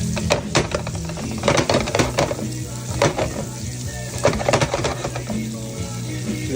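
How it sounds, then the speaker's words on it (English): Wild leek and walnut pesto sizzles steadily in a hot pan with radiatori pasta nearing al dente, a loud close frying hiss with occasional stirring scrapes and clinks throughout. "You want it sizzling just like this as this hits al dente"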